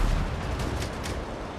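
Ship cannons firing a volley in the video game Windrose, heard as a short run of muffled, low booms over a rumbling background.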